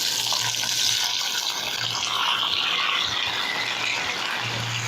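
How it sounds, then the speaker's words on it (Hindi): Tomatoes hit hot oil seasoned with panch phoron in a pan for a Bengali tomato-date chutney, giving a steady, bright hiss of sizzling that holds at an even level throughout. "उफ, ये सिजल।"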